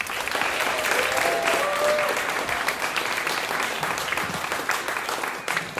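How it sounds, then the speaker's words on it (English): Audience applause for the two drummers at a studio jazz band concert at The Shack, a dense, steady wash of clapping sustained for about six seconds, with some crowd noise mixed in. "Can we give a big round of applause for Olin and Greg on drums?"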